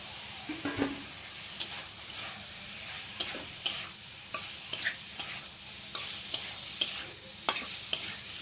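Cubed potato and pointed gourd stirred into frying masala in oil, a steady soft sizzle broken by repeated scraping clicks of the spoon against the pan, fairly quiet and close, with no talking.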